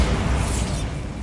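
A Bombarda blasting spell explodes in Hogwarts Legacy, a loud broad booming burst with a heavy low rumble that fades out over about a second.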